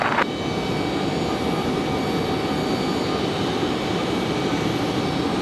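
Air France heavy jet airliner on approach to land at Raleigh Durham, a steady, loud broadband engine roar that holds evenly throughout with no voices.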